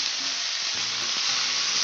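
Leafy greens frying in a pan with oil, a continuous bright sizzle with faint stirring scrapes beneath it, close and steady from start to finish.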